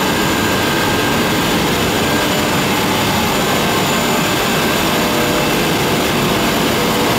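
Pumps and motors in a sports centre plant room run with a steady, loud, broadband mechanical roar and a faint constant whine on top, with no talking over it.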